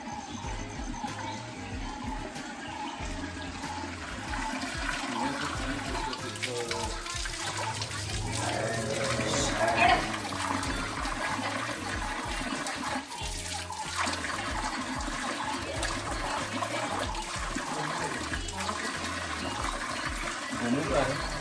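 Spring water pours steadily from a temple's gomukh spout into a basin, a continuous close splashing flow with children's voices and talk mixed in throughout.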